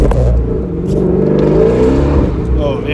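A supercharged Ford Mustang GT350 engine revs and accelerates loudly nearby on wet roads, a deep throaty roar that swells and holds with a whirring supercharger edge.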